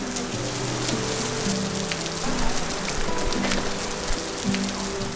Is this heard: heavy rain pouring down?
yes